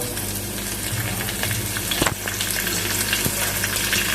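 Beef with curry leaves stirred in a frying pan, a continuous loud sizzle with a few scraping knocks of the spoon, no voices.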